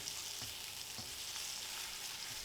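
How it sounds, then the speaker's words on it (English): Steady hot-oil sizzle of chilies and spring onions flash frying in a pan for Kung Pao chicken, with a few soft stirring knocks, no voices. "In with the chilies and spring onions. Give those a quick flash frying."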